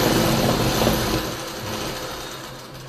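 Electric sewing machine running a continuous stitch around a trouser waistband, a steady close mechanical whir with fine rapid ticking that eases slightly toward the end.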